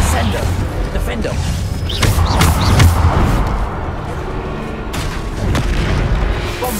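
Bombarda blasting spell from Hogwarts Legacy, a series of booming explosion impacts amid game combat effects, with a voice speaking over the bursts.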